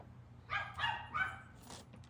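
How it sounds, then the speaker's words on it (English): A small five-month-old Pomeranian puppy gives three quick, high yapping barks and a fainter fourth, sounding somewhat distant and quiet. "That's Molly barking."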